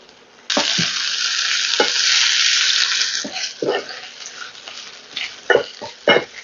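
Chopped garlic, ginger and green chili hit hot oil in a pan with a sudden loud, bright sizzle that holds steadily, then fades into softer bursts broken by spoon scrapes as the mixture is stirred.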